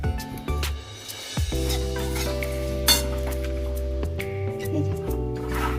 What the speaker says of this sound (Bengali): বাদামটাকে ড্রাই রোস্ট করলাম